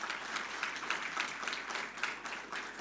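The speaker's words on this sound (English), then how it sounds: "So join me in thanking them with a hand clap, a very heavy one." Steady hand clapping from an audience at a foundation fellowship kick-off event, a dense, fairly soft round of applause lasting throughout without talk.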